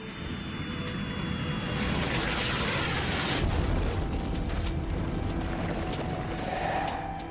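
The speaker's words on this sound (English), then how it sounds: "For about the first 600 million years, comets and asteroids pounded our planet." Deep, sustained roaring rumble of comets and asteroids pounding the early Earth, with dense layered booms and bursts swelling to a peak midway and staying loud throughout, no voices.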